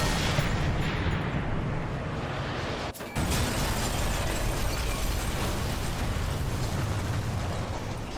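Explosion destroying guns in Sniper Elite 3: a loud, sustained roaring blast with rumble and debris noise filling the whole span, briefly cut by a sharp break partway through, with no talking.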